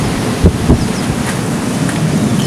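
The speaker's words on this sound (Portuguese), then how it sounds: "Escuta só o barulho desse vento." Strong storm wind roars outside during a destructive tempest, a loud continuous rushing with gusty swells and buffeting against the microphone.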